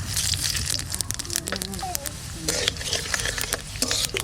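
Dry red chillies and five-spice seeds tempering in mustard-fish frying oil in a wok, giving a steady crackling sizzle with stirring clatter, heard close under intermittent speech.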